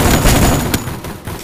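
Gunfire from the video game Free Fire Max rattles out as a dense, loud burst of rapid shots that fades after about a second, with no speech.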